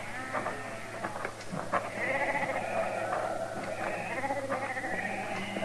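A flock of sheep on open range bleating repeatedly, several overlapping calls near and farther off over a low steady hum.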